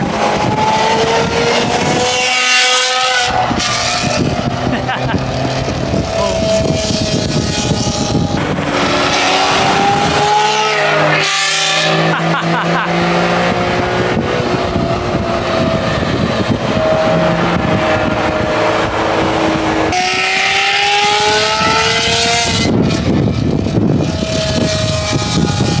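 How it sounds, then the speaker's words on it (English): A car with a loud aftermarket exhaust rolling up at the Daikoku parking area in Japan, a close, loud engine drone with rising and falling revs and rumbling pops that holds throughout, with no talking. "you've got the brilliant exhaust entry rolling up here"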